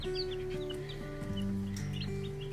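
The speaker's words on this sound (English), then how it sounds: "Look at that crazy chicken." Young chickens, a mix of barred rock, sapphire gem and Easter egger breeds, cluck and peep in a sustained chorus nearby, tonal trills and short chirps overlapping continuously.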